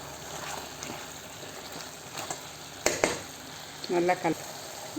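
Chicken gravy stirred in a frying pan, a close, soft bubbling sizzle with a few scraping utensil strokes and a brief louder clatter, a voice speaking briefly near the end.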